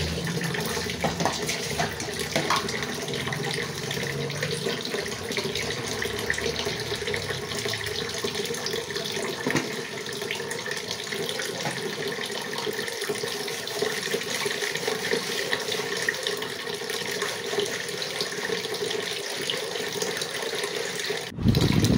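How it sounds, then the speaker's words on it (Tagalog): A large pot of water boils while rice cooks, giving a steady, dense rushing bubble that runs unbroken and close before cutting off abruptly at the end. "Malaki po yung pinupunan namin ng tubig kaya hanggang ngayon patuloy pa ang lagaklak."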